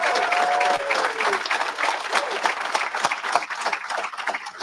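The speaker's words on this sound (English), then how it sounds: "Can we give Mariely a big, gigantic round of applause?" Applause from a graduation ceremony audience at a HOPE for Prisoners event, a dense, steady wash of many hands clapping close by, with a brief whistle near the start and faint voices mixed in.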